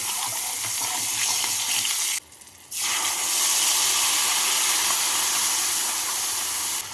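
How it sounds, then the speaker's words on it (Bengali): Green chillies and a pinch of white cumin sizzle steadily in hot oil for a fish curry tempering, a loud continuous hiss broken by a brief dip in the middle, with no voices. "তেলটা গরম হয়ে গেছে এবার এর মধ্যে দেবো ফোড়ন ফোড়নে দিচ্ছি দুটো কাঁচা লঙ্কা আর অল্প সাদা জিরে"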